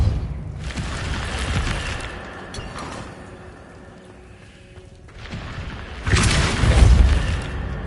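A Depulso force spell in Hogwarts Legacy hits its target with two heavy booming impacts, one at the start and a louder one near the end, separated by a quieter stretch of game ambience.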